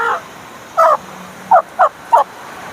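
A young six-month-old rooster gives short loud calls nearby: one burst, then a pause, then three quick clipped calls in a row.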